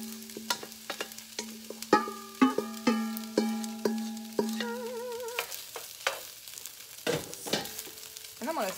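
Vegetables, eggs and rice are stirred in a pan with a utensil, giving a rhythmic series of close metallic scrapes and clinks, some leaving brief ringing tones, over a faint sizzle.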